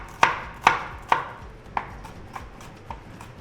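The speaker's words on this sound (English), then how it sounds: "we're going to chop up and mince lots of red onions" Knife chopping red onions on a board, a few sharp distinct cuts at first, then lighter, fainter taps spaced out, with no talking.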